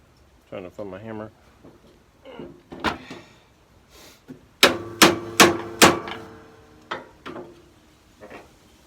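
Sharp hammer strikes on bent metal parts of a riding mower under repair, a quick run of four loud blows followed by a few lighter taps, with talking before and between.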